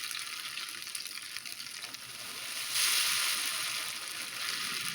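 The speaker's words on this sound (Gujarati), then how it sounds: "આપણું ઘેવર તેલ ઉપર આવશે એટલે બધી બાજુથી સરસ ચડતું જશે." Rajasthani ghevar batter frying in hot oil, a steady close bubbling sizzle that swells briefly midway and keeps going without pause.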